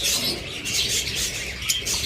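Caged pet birds, green opaline pairs, chirping in a dense, continuous high twitter at close range, with steady overlapping calls and no talk.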